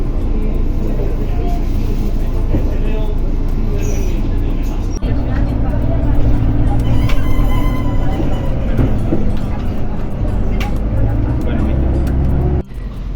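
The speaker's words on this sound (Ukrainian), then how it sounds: "Тут такий автобус подвійний." A double articulated city bus heard close by, with a continuous loud engine and road rumble, passing traffic and a short break partway through, while a voice talks over it.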